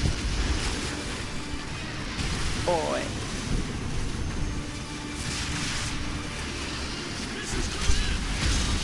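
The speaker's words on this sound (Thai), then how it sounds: "พายุลมแรง" Strong storm wind howls in Call of Duty Modern Warfare 3, a continuous loud rushing roar like surf and thunder, with a brief exclamation from a player partway through.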